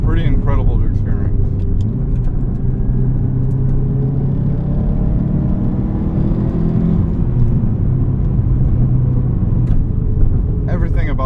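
A 2003 Subaru WRX STi with the 2-liter EJ207 flat-four on the move, a continuous loud engine drone with the pitch rising and falling through the revs while driving, with a bit of cabin noise.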